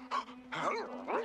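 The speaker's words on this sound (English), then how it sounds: "Good dog." Animated dog character in the 1994 animated film Thumbelina barks and yips in a few quick bursts, close and fairly loud, over a steady tonal hum in the background.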